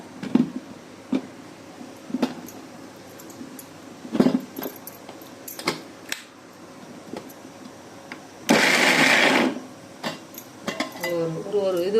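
Light clinks and handling of a medium mixer-grinder jar lead into a single loud, roughly one-second whirring burst as it blends jamun fruit for juice, followed by a voice talking.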